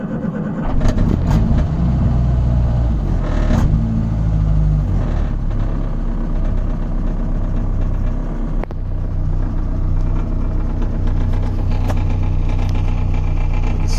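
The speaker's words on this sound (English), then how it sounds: "and the car started" A Morris Minor 1000 car engine cranks and catches, then settles into a loud, steady running rumble heard close up for over ten seconds, with a few faint clicks and knocks along the way and no talk.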